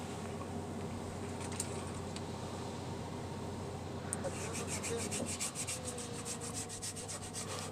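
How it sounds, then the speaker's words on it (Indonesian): Rear brake shoe linings of a Toyota Fortuner being sanded by hand: a steady, close scratchy rubbing that continues throughout, with a few faint clicks of handling. "Jadi kita amplas kampasnya, sekalian kita bersihkan semuanya dari debu-debu"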